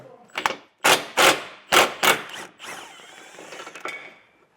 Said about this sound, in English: I got an 18mm socket, and there's gonna be just 4 nuts.